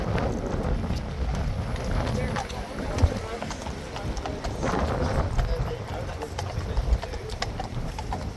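Horse hooves clip-clop steadily on the street at Horse Guards as a horse moves among tourists, with a continuous rhythmic clatter close by, wind rumble, and people talking throughout.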